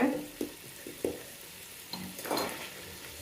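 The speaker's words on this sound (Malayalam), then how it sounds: "ഉരുളക്കിഴങ്ങ് ഒന്ന് ചെറുങ്ങനെ ഒന്ന് പൊരിഞ്ഞാൽ മതി" Potatoes frying in a pan, a soft steady sizzle with a few light stirring clinks and scrapes, close and fairly quiet.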